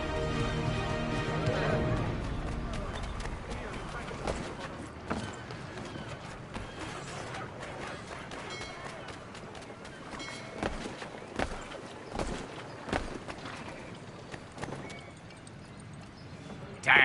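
Horse hooves clip-clopping on a city street in Assassin's Creed III, a steady run of hoof beats under ambient game sound, with scattered sharper knocks and thuds along the way.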